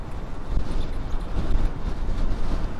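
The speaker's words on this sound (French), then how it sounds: "Oh le vent" Continuous low, buffeting wind roar against the microphone, rumbling and uneven, with no voices.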